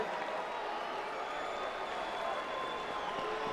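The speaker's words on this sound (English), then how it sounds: "A round of applause for two warriors in the ring here tonight." A boxing arena crowd applauds after a title bout ends in a draw, a broad, steady wash of distant clapping and murmuring from the stands that stays even and moderately loud throughout.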